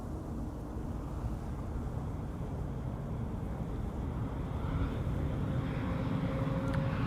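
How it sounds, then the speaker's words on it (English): KLM flight 954 arriving from Newcastle, a steady broad jet roar that holds even and rises slightly as the aircraft approaches, with no talk over it. "It is KLM flight 954 and it is the Herpa Derpa Derpa arriving from Newcastle."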